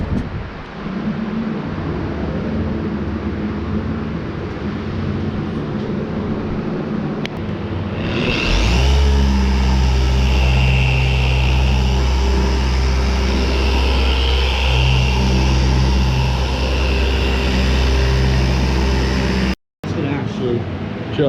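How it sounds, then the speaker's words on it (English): A shop fan switches on partway through and roars loudly and steadily with a deep hum and broad whoosh, drowning out the earlier quieter room noise and cutting briefly near the end. "I'm turning the fan on for right now, and things are gonna get loud."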